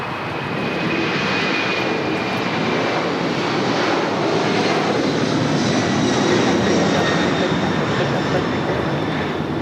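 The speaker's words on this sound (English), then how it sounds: "It's an 18-year-old 747-400 freighter delivered in April of" An 18-year-old Boeing 747-400 freighter roars at LAX with a broad, steady jet-engine rumble and faint high whine, loud and continuous through the whole stretch.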